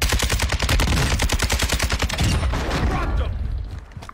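Rapid bursts of automatic gunfire in a video game firefight, loud and close, with dense overlapping shots that thin out toward the end.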